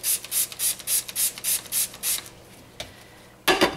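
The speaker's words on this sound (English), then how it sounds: "you can give it a spray with a real fine mist" Fine mist of hot or warm water sprayed over handcrafted milk soap, a run of about eight quick rhythmic pumps from a spray bottle, close and fairly loud, then a pause before a final short burst.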